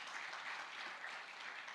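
An audience claps together in a dense, continuous round of applause, fairly faint and brief, heard alone without speech.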